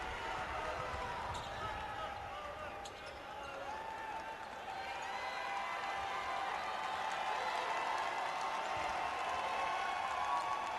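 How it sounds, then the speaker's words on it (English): Home crowd in a gym at a girls' Class 6A high school basketball semifinal, Wichita Heights fans roaring steadily and swelling toward the end, with ball bounces and play-by-play talk over it. "Heights crowd voicing their approval"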